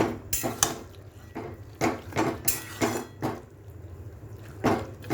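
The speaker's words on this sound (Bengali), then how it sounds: "নাড়িয়ে দিলাম" A utensil scrapes and knocks against a cooking pan while dry fried food is mixed over a low gas flame, making irregular clanks and scrapes every half second or so, close by with no talk.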